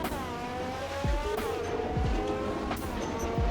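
Mercedes cars race on a beach in a Roblox video game, with continuous engine drone, sweeping revs and repeated sharp tire-squeal swoops as the cars skid and pass, loud and without speech.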